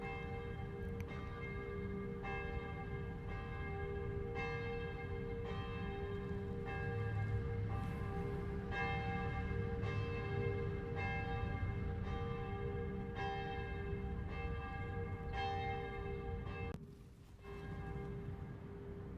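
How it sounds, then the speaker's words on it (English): Church bells ring continuously with rich, sustained overlapping tones, loud and steady, with a brief dip near the end. "Now the church bells, come on!"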